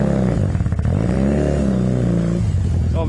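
A Honda CB250 motorcycle engine runs loud and close, its harmonic drone rising and falling as it revs, steady throughout with a brief clatter near the end and no talk.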